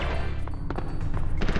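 Rapid automatic gunfire in a Mortal Kombat video game rattles continuously at close range, a dense stream of shots with no talking.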